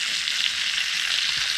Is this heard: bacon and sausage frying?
yes